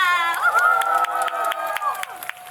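Audience at a K-pop concert marking a groundbreaking ceremony in Yongsan cheers and applauds. The crowd noise is loud and steady, with sharp shouts and claps running through it and a sustained high voice over the top.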